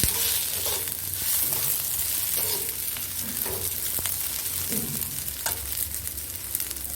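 Rice frying in a pan with fried potatoes, onion and garlic for Bengali murighanta, a loud steady sizzle with periodic scraping stirs recurring every second or so, close and unbroken.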